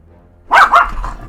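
A small dog gives two quick, sharp barks close by, loud and clear after a moment of quiet, with a faint trailing rumble afterward.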